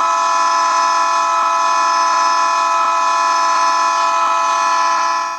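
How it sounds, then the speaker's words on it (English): CP AC4400CW locomotive air horn in the Trainz 12 train game, one loud sustained multi-tone chord that holds steady for about five seconds before cutting off, with no talk. "I have a CP-AC4400CW horn."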